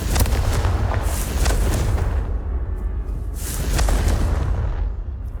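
Two heavy booming blasts from a Confringo fire spell in Hogwarts Legacy, each a loud crackling burst with a rumbling tail, the first around the start, the second roughly three seconds later, with no speech.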